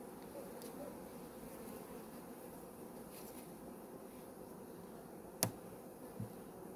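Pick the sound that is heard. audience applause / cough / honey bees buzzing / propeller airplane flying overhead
honey bees buzzing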